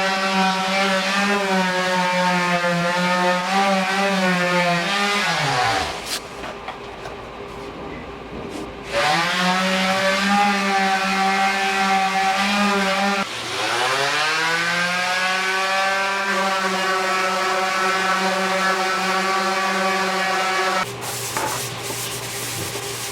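A power sander grinds steadily against a shell, a loud continuous whine with shifting harmonic pitch, cutting out briefly twice between passes and restarting.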